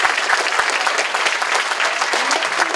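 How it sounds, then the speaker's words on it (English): A school class at a DARE graduation is applauded by the audience, a steady wash of many hands clapping close and loud for the whole stretch, with no voices over it. "All right, big round of applause for Ms."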